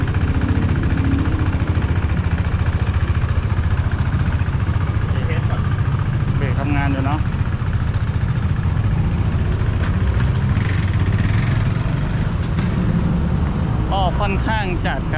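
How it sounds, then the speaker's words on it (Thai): A single-cylinder KTM 390 Duke motorcycle engine idles with a steady low chugging throb throughout, loud and close, with faint voices in the background. "เครื่องยนต์ก็หนึ่งสูบนะฮะ ฟังจากเสียงน่าจะรอบจัดอยู่"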